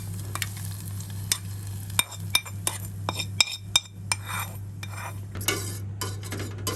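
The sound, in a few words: stirring ragi drink with a spoon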